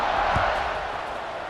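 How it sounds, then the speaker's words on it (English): A stadium crowd buzzes in EA Sports College Football 26 after a score, a broad steady roar of many voices with a faint thump early on. "this crowd is buzzing after that last score"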